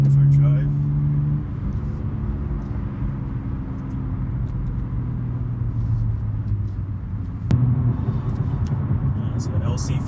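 A BMW M3 driving, heard as a steady low engine rumble with tonal drone that shifts in pitch, and a sharp transient partway through where the engine note rises again.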